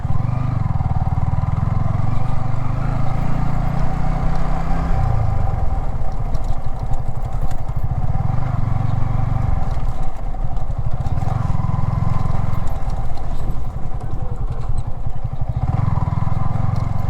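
Several motorcycles idling together before setting off on a forest picnic ride, a loud low chugging rumble with rising and falling throttle blips, close and continuous throughout.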